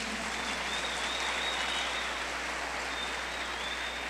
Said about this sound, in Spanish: Fuerte aplauso a Jesús